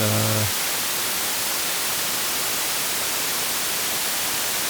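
Loud, harsh distorted noise fills the whole spectrum, a steady hiss-like static roar after a brief buzzing tone at the start, with no talking.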